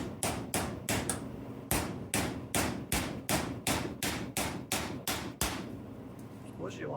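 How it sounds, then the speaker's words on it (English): Sharp metallic hammer blows drive a small chisel ground from a 3/16 punch, cutting a bushing off a GM 3.0L or 3.6L starter, in a steady run of about twenty close, loud strikes with a brief pause partway. "I bought a 3/16 punch and I turned it into a little tiny chisel. And I just simply start cutting that bushing off of there."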